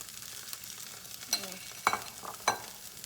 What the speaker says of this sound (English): And I'm going to now add my salmon to the pan. I'm gonna add just throw in the garlic.